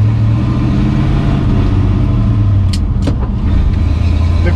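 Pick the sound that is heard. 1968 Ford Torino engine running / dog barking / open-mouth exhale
1968 Ford Torino engine running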